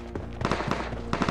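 Gunfire in the mobile battle-royale game PUBG Mobile, a quick cluster of several sharp shots in close succession, fairly near and punchy, with no talk over them.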